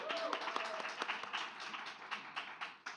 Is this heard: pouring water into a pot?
no